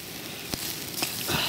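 A pork chop sizzles on a grill over a campfire, a soft, steady crackle and hiss with a few sharper pops, close and fairly quiet.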